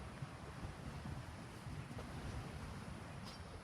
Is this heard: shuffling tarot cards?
no